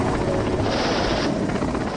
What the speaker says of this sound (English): Russian military Mi-8 utility helicopters were captured in an airborne assault